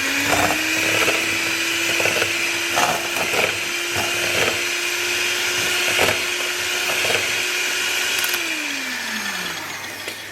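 An electric mixer creams butter and eggs for lebkuchen dough, a loud continuous whirring hum holding steady with occasional knocks of the beaters against the bowl, then winding down as it slows near the end.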